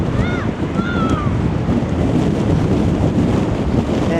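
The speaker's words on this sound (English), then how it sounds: "Definitely windy." Strong wind gusts across the Blackpool seafront promenade, a loud, steady roar of buffeting against the microphone that runs throughout, with a few faint high calls near the start.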